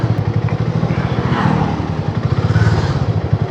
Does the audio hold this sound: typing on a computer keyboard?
no